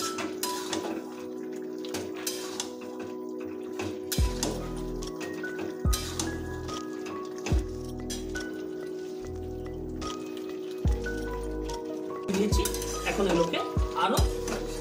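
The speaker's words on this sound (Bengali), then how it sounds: "প্রায় মিনিট 5 ধরে কষাতে থাকবো যতক্ষণ না পর্যন্ত লাউ আর আলুগুলো সুসেদ্ধ হয়।" Bottle gourd and potatoes being stir-fried in a pan for lau chingri, with repeated metal clinks of a spatula against the pan over a low sizzle, in steady bursts close by.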